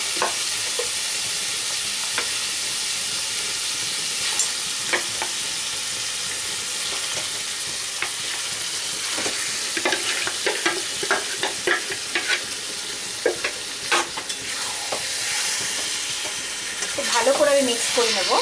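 Chicken meat frying in a pan with oil, a steady sizzle throughout and repeated scraping, clattering stirs of a spoon against the pan, fairly close.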